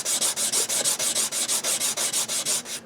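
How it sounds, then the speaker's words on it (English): Sandpaper rubbed on a hard flat surface while sanding down a Kramer Aero Star guitar part, about sixteen quick, even back-and-forth strokes, close and steady, with no talk. "piece of sandpaper on a hard flat surface. And I'm just going to sand this baby down"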